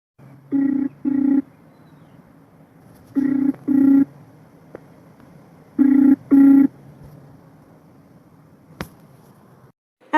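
A telephone ringback tone heard while a call connects: three clear pairs of short buzzing beeps, spaced a few seconds apart, with quiet line hiss between them and no voices.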